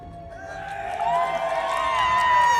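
A crowd at a Chai Nat provincial team's 7-a-side football championship celebration cheers and shouts. The noise swells steadily louder over a couple of seconds, with sustained whistle-like tones running through the roar.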